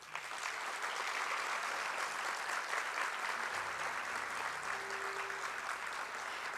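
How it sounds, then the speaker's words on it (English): Sustained, even applause from an audience at a data festival opening ceremony, a broad wash of clapping from many hands that holds steady throughout. "let's have some huge applause for this amazing turnout"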